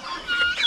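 Crossbred chickens, mixed from Brahma and native stock and raised for sale, give a brief burst of close clucking lasting under a second.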